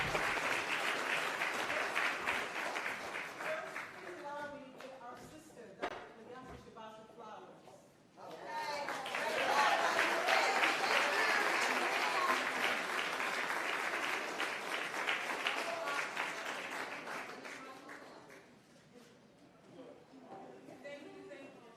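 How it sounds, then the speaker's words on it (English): Sustained audience applause fills a hall at a Malcolm X commemoration event, dense clapping that swells, dips, then rises again for a long stretch, with scattered voices and cheers mixed in. "Please give her a round of applause"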